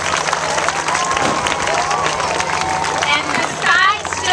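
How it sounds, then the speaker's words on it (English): Outdoor crowd at a charity relay event for the American Cancer Society, applauding the school administrators. Scattered clapping mixes with cheering and lively chatter, with voices heard throughout. "let's give them a quick round of applause"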